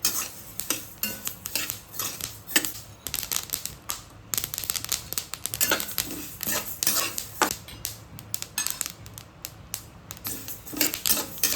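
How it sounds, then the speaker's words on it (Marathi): Flax seeds dry-roast in a pan over a low gas flame while a spoon stirs them. Frequent scraping and tapping against the metal continue in an irregular rhythm, close and moderately loud. "एक 10 मिनिट तरी लागतात आपल्याला जवस भाजून घ्यायला"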